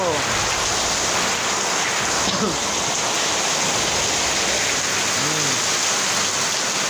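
Floodwater from a street in Naujan, Oriental Mindoro pours onto a home terrace during heavy rain, a steady loud rushing wash with faint voices briefly underneath.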